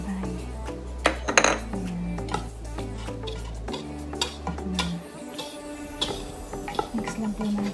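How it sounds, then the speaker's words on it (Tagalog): Dry ingredients for carrot cake, salt among them, being mixed in a bowl, with repeated light clinks and scrapes of a utensil against the bowl, close by, and a voice talking in between. "i-mix lang po natin para yung itlog ay"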